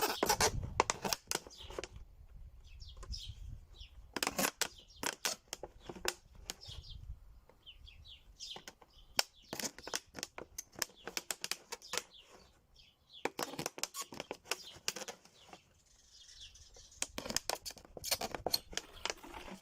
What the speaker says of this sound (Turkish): Şişe çevresine 4-5 tane delik açıyoruz bununla.